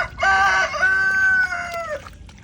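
A rooster crows once, loud and close, a single drawn-out cock-a-doodle-doo lasting about two seconds.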